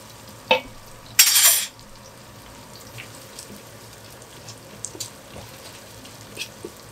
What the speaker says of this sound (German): So, das Tomatenmark auch kurz mit anbraten.